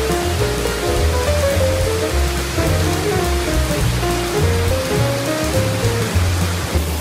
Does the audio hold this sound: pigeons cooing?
no